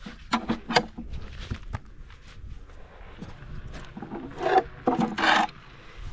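Trimming the bars of a difficult horse's hoof by hand; close, uneven scraping and rasping strokes come in short bursts, with softer shuffling and knocks between them and no talk.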